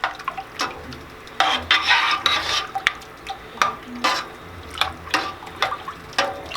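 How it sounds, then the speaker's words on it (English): A thick mac and cheese sauce with canned cream soups is stirred in a pot, producing uneven bursts of wet scraping and spoon knocks against the metal, close and fairly loud with brief pauses between strokes. "So now I'm gonna start stirring it to break down my cream of this and cream of that."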